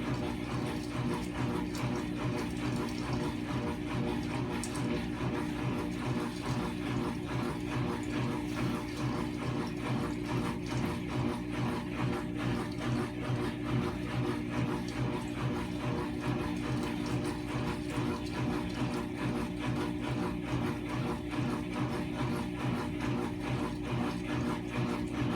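A GE GTW460ASJ4WW top-load washing machine runs with towels inside, giving a soft, steady mechanical whir with a regular rhythmic churning pulse, quiet and constant throughout.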